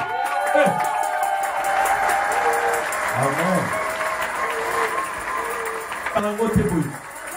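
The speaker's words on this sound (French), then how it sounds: "donnons des acclamations à Jésus" A church congregation claps and cheers steadily during a sermon, with whoops and shouts rising over sustained applause throughout.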